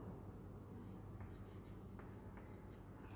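Pen scratching across paper while drawing the two axes of a graph, a steady faint scraping with a few short strokes, no talk.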